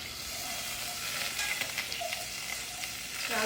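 Amul butter, two tablespoons, sizzling and frying in a hot pan, a steady crackling hiss with small spitting pops throughout, close and continuous with no talk.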